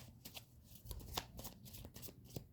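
Playing cards are riffled and shuffled in quick, crisp bursts of papery flutter, close up and fairly quiet, with no talking.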